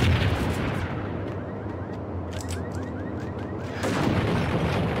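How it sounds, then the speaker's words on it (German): A grenade launcher firing in the Max Payne shooter game, with loud, dense blasts and rumbling booms filling the whole stretch, swelling again near the end. "Oh mein Gott, der hat einen Granatwerfer, oder?"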